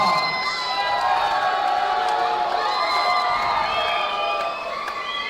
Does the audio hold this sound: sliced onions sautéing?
no